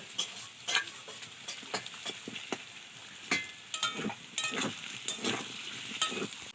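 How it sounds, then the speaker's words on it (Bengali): Garlic frying and being stirred in a pan with potatoes and onions, with irregular scraping strokes over a soft sizzle at moderate level, and no talking. "রসুনটা এবার একটু আমি ভেজে নেব"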